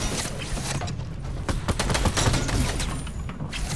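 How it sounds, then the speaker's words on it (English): Rapid bursts of gunfire in a video game, dense rattling volleys that swell in the middle and keep going without a pause, heard alone with no talk. "They're shooting at us."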